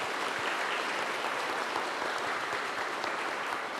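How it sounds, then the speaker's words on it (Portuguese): Applause for fathers rises at a Mass at a sanctuary, a steady, dense crowd clapping held evenly for a few seconds. "Vamos dar uma salva de palmas para todos os pais."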